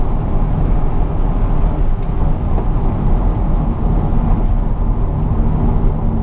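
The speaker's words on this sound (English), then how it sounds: "You hear only a little bit of the noise of the engine, you hear the wind" Steady low diesel engine drone with broadband wind rush inside a fast-moving BMW 535d E61 wagon, loud and constant throughout, no talking.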